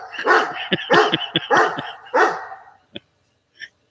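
A dog barks loudly in a quick run of about five sharp barks at close range, then falls mostly quiet with a few faint scattered sounds.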